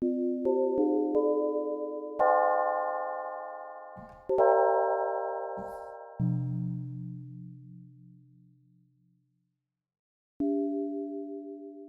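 Several clean additive-synthesis tones on an M1 synthesizer sound in succession and overlap, each struck and slowly fading, with a brief silence before a final tone.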